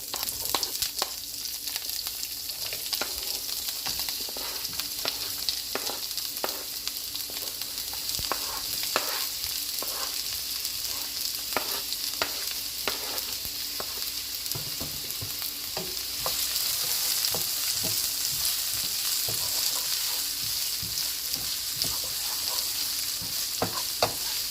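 Vegetable fried rice with seasoning cooks in a pan, giving a continuous moderate sizzle broken by repeated scraping and stirring strokes, with no talking.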